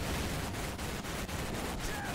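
Anti-aircraft shells burst near planes during the Pearl Harbor attack in Medal of Honor Pacific Assault, a dense rapid barrage of blasts and gunfire rumbling steadily and fairly faint throughout.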